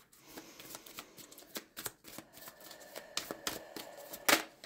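A guidance card deck being handled, with a series of soft close riffles, taps and flicks as cards are shuffled and one is drawn, quiet and with no talking.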